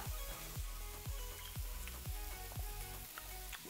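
Mushrooms sizzling in a hot pan as they caramelize for vegan pulled pork, a steady close frying hiss with regular scraping stirs.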